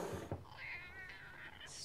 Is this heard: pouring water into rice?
no